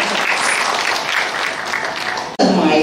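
Audience applauding Director Imelda Agdeppa of DOST-FNRI at an event: a steady, dense wash of clapping, briefly cut off near the end and then resuming loudly.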